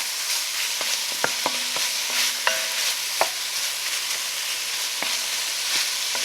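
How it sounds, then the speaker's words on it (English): Beef pieces browning in a soup pot, with a steady close sizzle broken by several sharp metallic taps and ringing scrapes of a utensil against the pot. "Into the pool it goes. And you want to just start developing some color on your beef."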